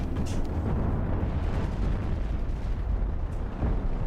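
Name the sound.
chain guns firing in Cosmoteer video game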